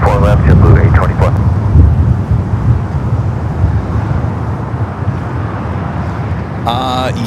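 A JetBlue airliner on runway 24 left at LAX, a steady broadband jet roar that holds loud throughout with wind buffeting, and a brief burst of radio-like chatter near the end.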